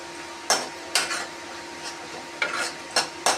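Potatoes fry in oil on a low simmer while being stirred, with a soft steady sizzle under about half a dozen sharp scraping clatters of the utensil against the pan, spaced irregularly.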